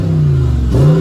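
A 2020 Dodge Charger Scat Pack with the 392 Hemi V8 and active exhaust revs close by, a loud deep rumble that dips and then climbs again in a short burst.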